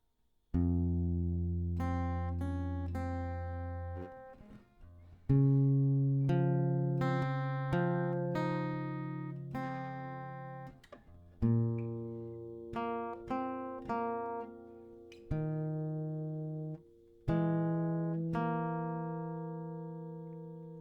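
Slow, deliberate plucked acoustic guitar notes and chords, each ringing out and decaying before the next, played alone without voices.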